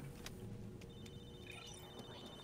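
A ringing phone in the video game Halo 3 ODST gives off a steady electronic ring that starts about a second in and holds to the end, fairly faint under a busy bed of game ambience, with no talking.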